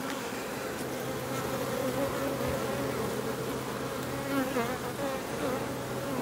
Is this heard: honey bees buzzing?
yes